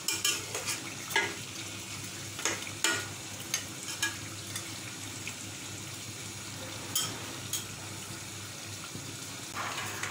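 Mutton curry stirred in a cooking pot, a soft, faint scraping with scattered brief spoon knocks over a low background hum, no talking.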